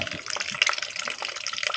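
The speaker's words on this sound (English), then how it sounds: "So there we have our coolant draining now." Coolant drains from the radiator of an Aprilia RS660 motorcycle into a tub, a continuous close trickling and splashing of liquid with small irregular bursts.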